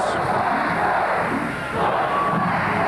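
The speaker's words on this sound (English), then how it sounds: "All right, the chant begins." A large wrestling crowd roars and chants in a dense, continuous wash of voices, steady and loud throughout, echoing as if in a big arena.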